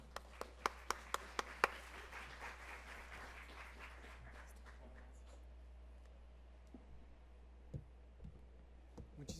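A handful of sharp, close claps open a brief round of audience applause welcoming a speaker at a legal forum, then it quickly thins and fades to near quiet with a low steady hum underneath.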